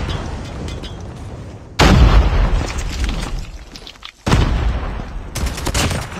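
A grenade explodes in a bomb-defusal shooter video game. Loud booming blasts burst in abruptly, one after another, with gunfire and rumbling between them.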